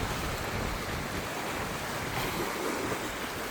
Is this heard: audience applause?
no